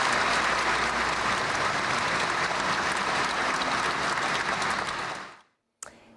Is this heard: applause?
yes